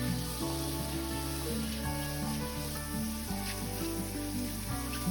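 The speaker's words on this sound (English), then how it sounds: "now it's time to roast them in butter" Mushrooms roasting in butter in a pan give a steady, close sizzle throughout, a dense crackling hiss without pause under a low hum, with no talk.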